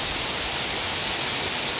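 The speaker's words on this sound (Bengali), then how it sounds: "এক কথায় বর্ষাকালের বৃষ্টি মানে এবছরের দেখা সেরা বৃষ্টি" Heavy monsoon rain with gusty wind near a garden of lotus plants, a steady, dense, loud hiss of downpour filling the whole stretch with no pauses and no voices.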